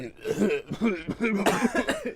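Harsh, raspy coughing bursts run together over a couple of seconds, close and fairly loud, with a voiced, strained quality.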